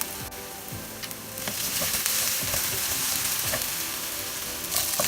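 Onion frying in a pan over medium heat, a constant crackling sizzle with a few clinks and stirring scrapes, growing slightly louder partway through, no talking.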